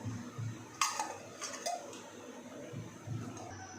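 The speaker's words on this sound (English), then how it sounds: "first I'm going to add in some oil and heat it up." Cooking oil is added to a pan in a home kitchen, heard as a few light metallic clinks and taps of bottle and cookware, quiet and close, over a low steady background hum with no talking.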